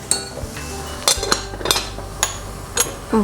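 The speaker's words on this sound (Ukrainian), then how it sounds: "Я швиденько помішаю і повертаюся до нарізання так?" Metal utensils clink and scrape against a pot of Ukrainian borscht stew several times in quick, irregular strokes, close by, with no talking.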